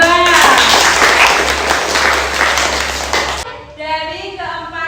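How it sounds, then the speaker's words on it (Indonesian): A classroom group applauds a student group for presenting, with dense clapping for about three and a half seconds that then stops abruptly, followed by voices talking. "kita berikan tepuk tangan buat kelompok 2-nya"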